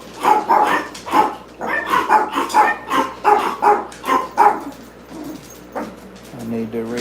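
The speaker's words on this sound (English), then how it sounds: "These dogs are getting rowdy." Several rowdy dogs bark in a rapid run of sharp, close, loud yaps that trail off into quieter sounds near the end.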